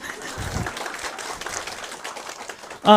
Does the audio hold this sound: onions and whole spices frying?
no